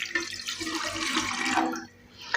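A glass of water poured into a steel saucepan holding kahwa spices and jaggery, giving a steady close splashing rush for about two seconds before it stops.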